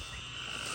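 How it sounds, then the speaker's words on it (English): Frogs call in the Tennessee mountains, a dense, steady chorus of sheep-like croaking heard at moderate distance with no voices over it. "you can hear what I presume to be some type of frog that's calling, and it sounds almost like a sheep"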